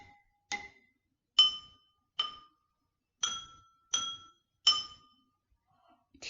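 Water-filled glasses struck as a homemade water xylophone ring out the notes of Twinkle Twinkle, seven clear bright pings spaced in a slow melodic rhythm, each with a short fading tail, close and fairly quiet.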